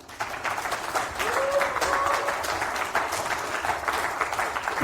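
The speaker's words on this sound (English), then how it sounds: "Give him a very warm applause." Warm applause from a conference audience welcoming a speaker to a talk on reproducible builds, steady dense clapping that fills the whole stretch, with a faint voice briefly audible underneath.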